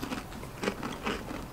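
Two people crunching into Los Cuates Picantes spicy corn chips together, a few close, crisp bites and chewing crunches in irregular bursts, with no talking.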